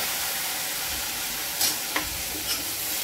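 Potato curry tempering sizzles steadily in a pan after a splash of water, a continuous hiss with a few brief stirring clinks, no voices.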